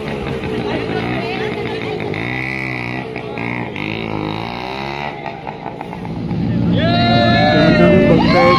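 Cars drifting at a college auto expo in Kankavli, engines roaring and revving loudly throughout with rising pitch sweeps, amid crowd noise and people talking.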